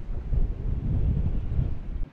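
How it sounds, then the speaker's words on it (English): Strong wind buffeting the microphone outdoors by the water while fishing from a boat, a loud, continuous low roar that gusts and then drops off abruptly at the end. "it's getting really windy"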